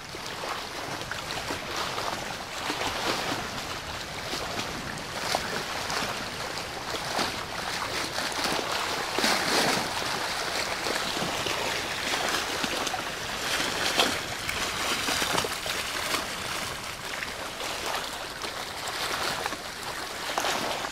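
Water laps gently on the shore of Rutland Water, a continuous soft splashing wash with small irregular surges, moderately close and steady throughout with no voices.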